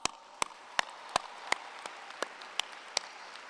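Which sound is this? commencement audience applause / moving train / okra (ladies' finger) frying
commencement audience applause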